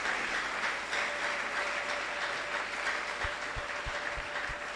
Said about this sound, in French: Applaudis là où tu es.